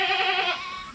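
A farm goat gives one loud, wavering bleat up close, and the call fades in its second half.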